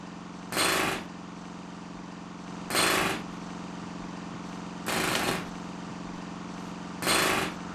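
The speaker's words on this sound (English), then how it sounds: "It was the compressor that powered the pneumatic drill." A compressor-powered pneumatic drill in the video game Broken Sword 3 fires in four short, loud rattling bursts at regular intervals over a steady low mechanical hum.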